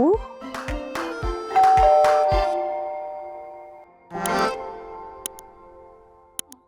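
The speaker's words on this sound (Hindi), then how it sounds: "5 सेकंड में घर की डोरबेल बजेगी" A house doorbell rings in a home, a melodic chime of several descending tones that ring out and fade, followed by brief clatter and a couple of sharp clicks.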